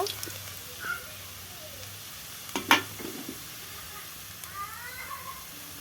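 Crushed garlic tossed into hot oil with dried red chilli in a pan of leafy greens, giving a faint, low sizzle with a brief louder hiss and clatter as it lands, then a soft, steady fry.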